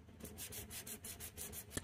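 Press-on nails being filed to rough up their surface, giving a steady back-and-forth rasping scrape in quick repeated strokes, close and fairly soft, with no talking.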